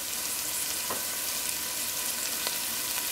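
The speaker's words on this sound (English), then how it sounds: "So let's add the tomatoes." Tomatoes tipped into a hot frying pan for a vegan callaloo stew, giving a steady close sizzle and crackle throughout with a couple of faint clicks from the pan.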